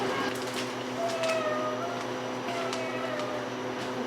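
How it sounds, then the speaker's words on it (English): A cat meows in a household kitchen while supper is being made, a short rising-and-falling call near the start, then softer mews over a steady appliance hum. "I hear a kitty cat."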